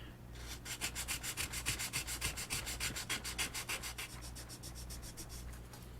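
A plastic model kit canopy for a Battlestar Galactica Viper Mk1 is scuffed with rapid, even back-and-forth rubbing strokes, close and crisp, that slow and soften toward the end, with no speech.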